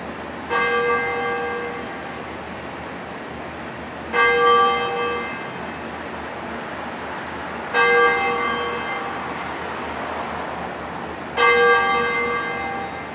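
Four slow, evenly spaced strikes of a large church-style bell, each ringing clearly and decaying over several seconds before the next toll.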